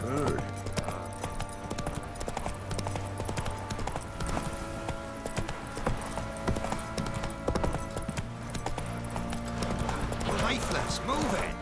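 Roach, Geralt's horse in The Witcher 3: Wild Hunt, clip-clops at a steady gallop with hoofbeats running all the way through, mixed with game music and talk.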